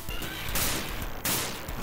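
Rapid missile fire in a Mighty Morphin Power Rangers fighting video game, a dense continuous barrage of blasts with two sharp bursts, loud and close with no voices.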